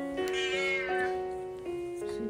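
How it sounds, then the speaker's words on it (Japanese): Several cats outside meow insistently to be let in, a run of overlapping, rising and falling cries close by, one after another, alongside a faint human voice. "外にいる猫たちは家に入りたいと泣き、網戸をガリガリとし、入れてくれと叫ぶ。"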